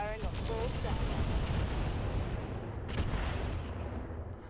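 Heavy mech weapons fire in the Roguetech BattleTech mod, a sustained roaring barrage of booming shots and explosions at constant loudness, with brief voice lines over it.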